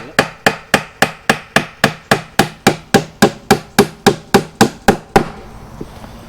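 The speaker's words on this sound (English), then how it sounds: "this top corner is one that I'm going to go ahead and get tacked in at one of the first nails that I'm going to add" About seventeen evenly spaced hammer blows drive nails into a wooden beehive honey super box, sharp and close with a steady rhythm, then silence.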